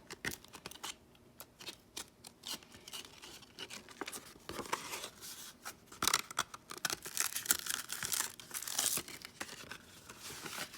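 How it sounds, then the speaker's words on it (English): Rough sandpaper sheets being torn and ripped apart by hand along folds, with crinkly paper rustling and several sharp bursts of tearing, loudest in the second half, close up and without talk. "And now with this rougher paper, it's pretty easy just to tear it like that"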